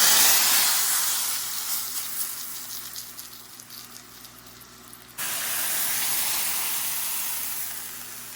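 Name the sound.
tempering sizzling into bottle gourd dal stew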